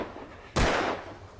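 A single sharp gunshot blasts in the video game Alan Wake, a loud sudden crack with a short decaying tail over quiet background.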